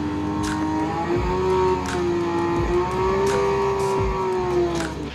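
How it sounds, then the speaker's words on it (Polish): A Porsche engine played at a museum sound station, a steady loud exhaust drone with gently rising and falling pitch, like a car idling and revving slightly. "zwiedzający mogą doświadczyć dźwięku wybranych modeli na specjalnym stanowisku"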